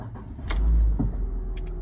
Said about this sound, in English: And we've started the car.